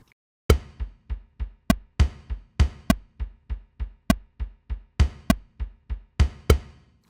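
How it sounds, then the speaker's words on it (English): A kick drum pattern in a groove, thumping in an irregular syncopated repeating rhythm over a low bass line, with occasional bright accents layered on some hits, close and steady without speech. "Over that, we have a kick pattern that looks like this."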